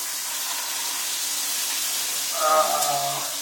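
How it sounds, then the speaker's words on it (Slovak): Food sizzles and spits in a frying pan, a steady broad hiss running throughout, with a brief voice-like murmur rising near the end. "Á, už to smaží, počuj."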